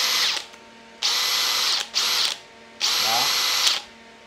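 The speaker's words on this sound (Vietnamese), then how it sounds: "Thì anh em sẽ khoan cho cái khoan cầm tay hoặc là khoan bàn" Hand-held or bench electric drill fitted with a short Japanese 13 mm bit, whirring in three loud bursts of varying length with brief quiet gaps between, close by.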